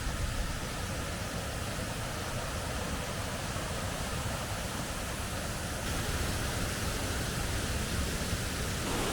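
Curragh Force waterfall roars close by as a dense, steady wash of noise across the whole range, constant and loud for the full stretch with no voices.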